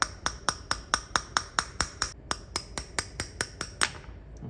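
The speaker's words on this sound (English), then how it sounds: "we're going to go ahead and get our punch, and just like our other firing pins, we're going to just tap it out" A punch is tapped against a roll pin in an M4 22 compact rifle bolt, producing about eighteen sharp, close metallic taps in a steady, even rhythm, with a brief pause midway.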